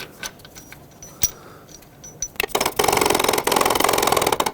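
A grooved idler pulley bolt on a 2007-2009 Saturn Aura is threaded in and tightened: a few sparse metallic ticks, then a sustained run of rapid close ratcheting clicks.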